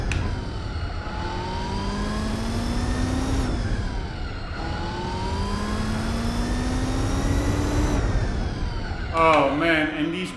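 A race car engine in the Gran Turismo 4 video game revs steadily and loudly through repeated rising pitch sweeps as it climbs through the gears, with a brief squeal near the end.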